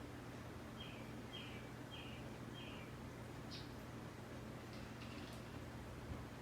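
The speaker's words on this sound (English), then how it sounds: "I have my doors open so I can hear all the birds outside" Birds chirp outdoors, heard through open doors into a quiet room: a few short repeated calls in a row, then scattered faint chirps, all distant and soft over a steady low hum.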